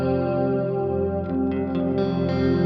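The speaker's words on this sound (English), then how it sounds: "to very dark reverb." An electric guitar through a reverb pedal set to a dark tone sustains a held, washy chord, with a few brighter notes plucked over the smooth, lingering tail.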